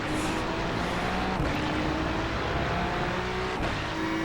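Ferrari 296 GT3 race car engine at full throttle in iRacing at Monza, a loud continuous high-revving drone with rising pitch and brief gear-change dips, heard alone from the cockpit.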